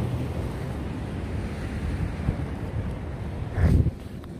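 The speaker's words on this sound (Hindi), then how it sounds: "लहर आने लगी, अभी मैं आपको दिखाता हूँ, ये देखें लहर" Ocean waves wash onto the shore on a sunny day in Malta, a steady loud rushing surf mixed with wind buffeting the microphone, with one heavier surge near the end and no talking.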